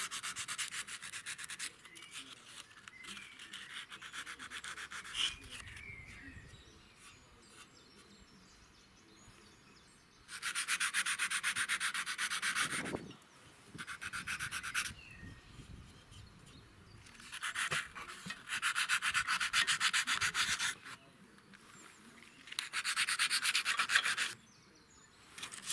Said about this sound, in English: take off the surface rust around the parts that you've missed